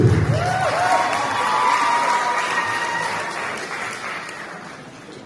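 Steady applause rolls through a graduation audience, dense clapping with a few cheers early on, holding at a moderate level and slowly easing off toward the end.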